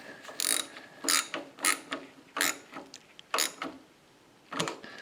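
A ratchet clicks in repeated short bursts while tightening bolts on a new Kubota regulator, close and crisp, roughly seven spurts of rapid clicking separated by brief pauses, with no talk.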